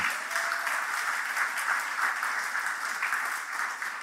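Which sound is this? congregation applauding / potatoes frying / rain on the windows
congregation applauding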